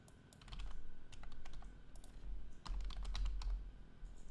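A computer keyboard is typed on close to the microphone, producing quick, irregular clusters of light key clicks with short pauses between bursts and a quiet background hum.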